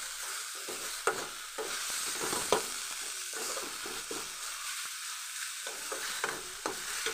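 Lai greens (mustard leaves) sizzle and fry in a pan for an Assamese lai xaakor xar dish, with steady hissing under periodic scrapes and clacks of a spatula stirring, close up.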